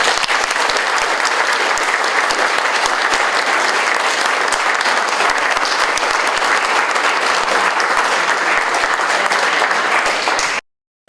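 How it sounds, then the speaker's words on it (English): Loud, sustained applause from an audience at a county primary candidate forum for prosecuting attorney candidates, steady dense clapping throughout that cuts off abruptly at the end. "Would everybody please give them a round of applause?"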